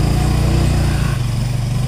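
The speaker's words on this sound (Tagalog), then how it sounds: "Tingnan mo Sir Idol, may tricycle." A Philippine tricycle motorcycle engine chugs steadily nearby on a mountain road, a loud low-pitched putter that holds constant over a short stretch without voices.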